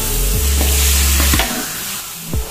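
Sweet dry tempe is stirred and fried in a pan, giving a steady loud sizzle with a few scraping spatula strokes across the metal, no voices present.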